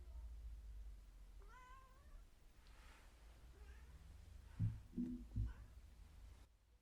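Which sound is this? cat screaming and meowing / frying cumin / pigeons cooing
cat screaming and meowing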